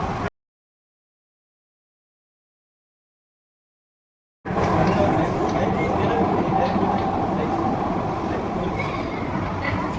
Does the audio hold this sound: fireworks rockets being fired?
no